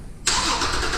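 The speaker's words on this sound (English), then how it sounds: "Car will start." A car engine fires up by remote start at about a quarter second in, cranking abruptly into a steady, close idle that holds loud for the rest of the moment.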